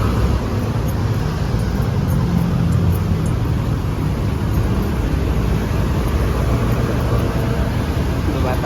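Street traffic near McKinley Hill in Manila rumbles as a constant low drone of cars and buses, with a steady roadway wash and no clear breaks.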